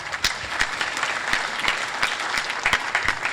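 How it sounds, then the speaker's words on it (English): A short burst of continuous clapping from a group at a high school senior honors night, steady and fairly close, with no voices over it. "Please give another round of applause."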